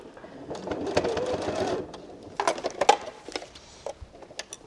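A sewing machine stitches down the fabric edge of a cutlery roll made from scraps: a fast close whirring run, then a pause and a few short, choppy bursts of stitching.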